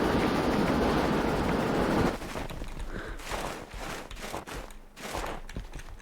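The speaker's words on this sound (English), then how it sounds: "let's wait for the rest of the train to leave the tunnel" A train in the snowy railway game Derail Valley roars through a tunnel with a dense, steady rumble, then emerges into a lighter clatter of wheels and rhythmic knocking that continues to the end.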